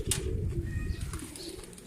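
A pigeon, a male of a pair of red-eyed zeery pigeons, coos in a low, steady murmur close by, with a brief high chirp near the start and faint bird sounds around it.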